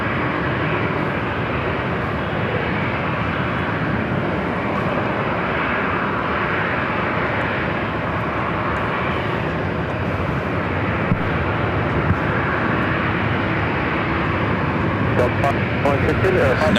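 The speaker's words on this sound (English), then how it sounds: "Delta A321 Neo lining up now on 24 left, heading to Atlanta, Georgia, flight 528." A Delta Airbus A321neo jet lines up on runway 24 left at Los Angeles International Airport, its engines producing a steady, broad roar that holds throughout, with a voice talking over it.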